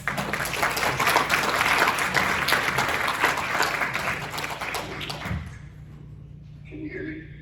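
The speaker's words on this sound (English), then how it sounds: "ladies and gentlemen, please give a huge round of applause for Nikki Vegas." At a memorial event, an audience claps in steady, dense applause for about five seconds, then it fades out to quiet, with a low thud near the end.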